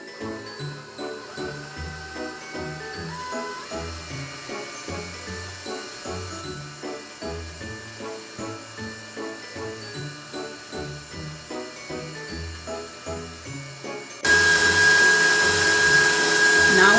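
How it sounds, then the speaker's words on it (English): Electric mixer whirring steadily while beating cream cheese frosting in a bowl, with rhythmic pulsing as the beaters turn, close and fairly loud, shifting to a brighter, harsher whine near the end. "Now I'm gonna stop my mixer."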